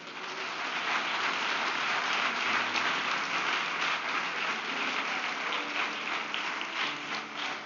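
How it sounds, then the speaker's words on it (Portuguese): A church congregation applauds together in sustained, dense clapping that stays loud and steady throughout, with no talking over it. "Pode aplaudir a Jesus"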